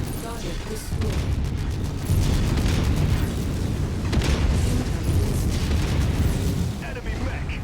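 In MechWarrior 5 Mercenaries an enemy mech blows apart amid continuous heavy combat, a rolling, booming explosive roar with crackling bursts layered over a dense low rumble, and a voice speaking through it.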